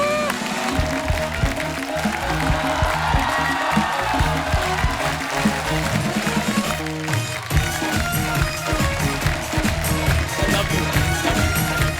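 Loud applause and crowd noise from a comedy show audience welcoming actor Tiku Talsania on stage, a dense sustained wash of clapping mixed with heavy low thumps.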